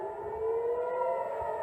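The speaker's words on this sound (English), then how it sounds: "Warning sirens sounded as dozens flew in above us." Civil defense air raid sirens wail continuously in Tel Aviv during a rocket barrage from Gaza. The tones are loud and sustained and ring out over a low rumble, with no voices.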